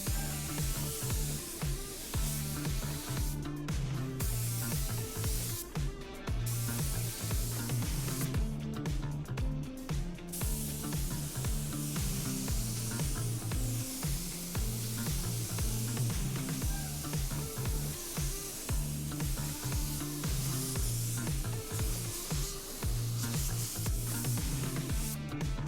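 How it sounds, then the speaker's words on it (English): A spray gun lays metallic paint onto a car bumper in repeated hissing bursts separated by short pauses, steady and close, with a low hum running underneath. "now I'm going for full coverage with my second coat, so I am applying it a little bit heavier."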